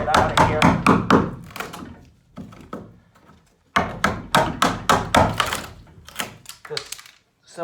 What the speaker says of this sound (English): Just simple chisel and a hammer.